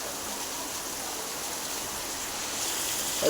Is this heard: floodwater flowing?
yes